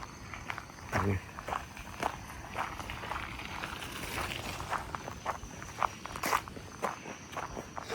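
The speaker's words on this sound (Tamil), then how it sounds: "நம்ம கூட நடந்து வர்றவங்களோட காலடி ஓசை கேட்குது" Footsteps of people walking along a Singapore coast-to-coast walking trail, a steady run of soft, close steps over outdoor background noise with no clear talk.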